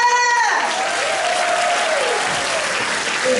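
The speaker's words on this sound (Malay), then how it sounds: "Satu tepukan untuk MC hebat kita." A hall audience at an Elken business gathering claps steadily for the MC, dense and loud, with a brief sustained tone and a voice sounding at the start.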